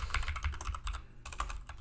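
Rapid, close-up clatter of typing on a computer keyboard, keys struck in quick irregular bursts with a brief pause midway, quiet and alone with no voices.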